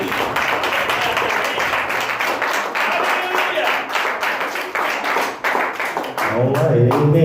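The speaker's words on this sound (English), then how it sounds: "Let's give God a hand clap." Church congregation clapping hands together in a worship service, a loud, fairly even patter of many hands that thins briefly near the end as voices rise over it.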